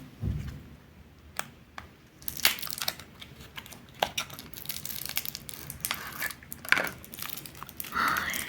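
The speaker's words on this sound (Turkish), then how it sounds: "Kutumuzu açalım." A surprise box is opened by hand, with close, crisp crinkling and rustling of wrapping coming in uneven bursts that grow busier toward the end.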